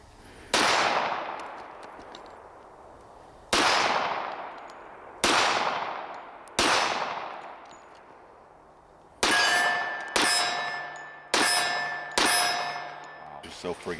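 A Dan Wesson Heritage pistol fires .45 ACP 230-grain rounds, eight sharp, loud shots spaced about a second or more apart, each with a ringing decay, the last four also carrying a metallic ring from steel targets.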